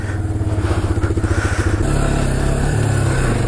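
A Kawasaki KLR 650 motorcycle rides off-road at McLean Creek, its single-cylinder engine chugging in a steady, close pulse that rises slightly in pitch partway through, with faint rattling from the bike over rough ground.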